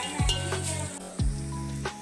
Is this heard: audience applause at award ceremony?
no